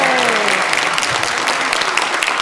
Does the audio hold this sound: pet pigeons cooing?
no